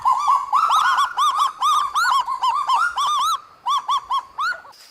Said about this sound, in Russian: У нее голос, напоминающий лай, которым она общается с сородичами и защищает территорию.